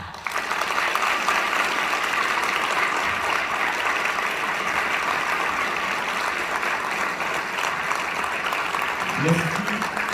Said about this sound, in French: je proposerai que les diplômés d'aujourd'hui applaudissent leurs parents maintenant